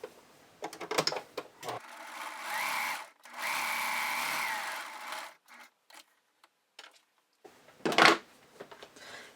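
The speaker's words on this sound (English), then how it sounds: "just go ahead and run it through your sewing machine and or serger" A sewing machine stitches the side seam of a lace shrug in two steady bursts of whirring, separated by pauses, with handling clicks and fabric rustle around them.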